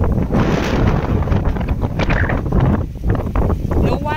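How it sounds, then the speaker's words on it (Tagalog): Strong wind on an island shore where small pump boats cannot cross to the mainland, roaring steadily into the microphone with loud buffeting gusts throughout, while a person talks over it. "So strong wind, guys."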